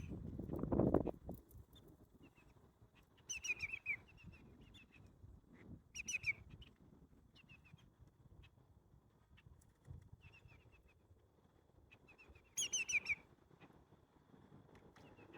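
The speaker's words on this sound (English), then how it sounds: "Red-winged blackbird." A red-winged blackbird at a wildlife refuge near Portland gives several buzzy, trilling calls spaced a few seconds apart, fairly faint and distant over quiet outdoor ambience, with a brief low rumble at the start.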